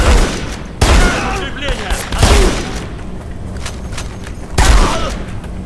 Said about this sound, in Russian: вот эта перезарядка похожа на Сайгу